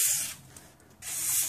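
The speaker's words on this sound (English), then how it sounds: "on both sides, inside in the impeller, spray it down, lubricates everything real well, and really prevents rust" Silicone WD-40 lubricant is sprayed onto a snow blower and into its impeller in two close, loud hissing bursts with a short pause between them.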